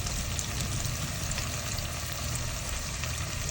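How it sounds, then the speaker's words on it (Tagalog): Tomato paste sautéing in a pan for Filipino beef kalderetang baka, giving a steady, close, even frying sizzle that holds without pause and with no voices. "Gigisa na rin natin ang tomato paste."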